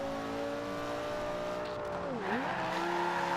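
A Lamborghini engine from the racing game Forza Horizon 2, holding a steady high whine, then briefly dipping in pitch as it lifts off and comes back on, with faint tire noise underneath and no talk.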